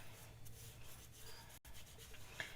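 A craft ornament has material rubbed onto it by hand, a faint, steady scratchy friction with soft broadband texture, one brief gap and a small tap near the end, heard alone with no speech.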